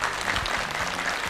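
A short burst of audience applause on a television game show, dense steady clapping from a crowd for just over a second.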